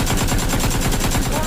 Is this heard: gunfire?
yes